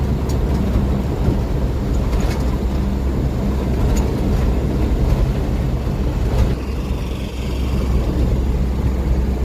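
Low, steady engine drone of a vehicle rolling down a long, steep hill road on engine braking, continuous and fairly loud with road rumble, no talking.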